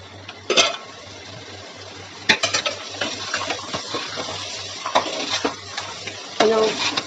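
Boiled beans tumble into a pan of dry fish curry masala, followed by scattered scraping and stirring of a spoon against the pan, with soft clinks and a low steady hum beneath.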